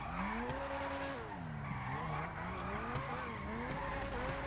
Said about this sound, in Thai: นี่คือการดริฟ